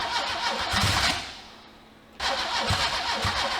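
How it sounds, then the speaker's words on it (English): A 1991 Volkswagen Golf 8-valve engine, timing off and firing on one cylinder, cranks and catches with a rough, uneven idle, dies back for a moment, then cranks again loudly; no voices. "Does my 1991 Volkswagen Golf 8 valve start?"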